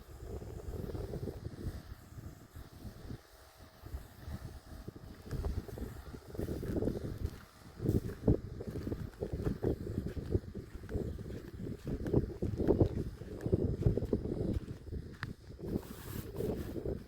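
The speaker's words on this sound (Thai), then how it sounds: "ลมมันอยากพัดมาทางเฮาเนาะ" Wind gusting outdoors across an open field during herbicide spraying in rural Thailand, a steady broadband rumble buffeting the microphone with stronger gusts throughout, and occasional faint voices beneath it.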